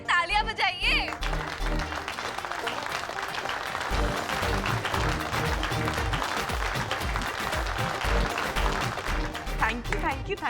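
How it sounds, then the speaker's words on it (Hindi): A TV-show studio audience applauds Guddan's joker performance, steady clapping running under music and voices throughout, fairly loud and continuous. "अरे गुड्डन जी के लिए तालियां बजाइए।"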